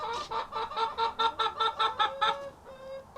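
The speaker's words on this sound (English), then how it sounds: "My chickens are being so noisy." Backyard hens cluck noisily in a quick, regular run of about a dozen calls, close and loud, before the calls taper off into quieter notes.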